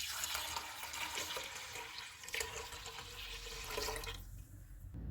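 Water being poured into mixed dal seasoned with ginger-garlic paste, tomato, red chilli, turmeric, coriander powder and salt, a steady close splashing trickle that runs for several seconds, then cuts off near the end.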